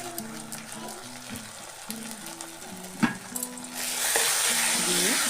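Turmeric and chilli powder frying in a pan for a Bengali fish-head dal, a steady sizzle under a background tonal hum, with a stir scrape midway and the sizzle swelling louder toward the end.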